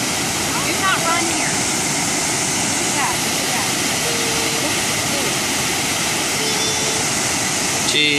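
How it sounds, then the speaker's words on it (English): Waterfall in North Carolina, a loud, steady broadband rush of falling water that fills the scene unbroken, with faint voices now and then. "You like the waterfall?"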